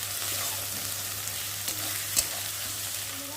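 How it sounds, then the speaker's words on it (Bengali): Steady sizzling of chilli powder and spices frying in hot oil with potatoes, a continuous crackling hiss with a faint scrape or clink partway through. "এখন আলুর মধ্যে দেবো গুঁড়ো লঙ্কা দিয়ে মশলাটাকে ভালো করে ভেজে নেব"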